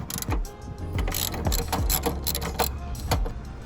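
Hand ratchet clicking steadily in short bursts, loosening 10mm bolts on the lower intake scoop of a 2012-2015 Honda Civic 1.8L, close and fairly loud, with no talk.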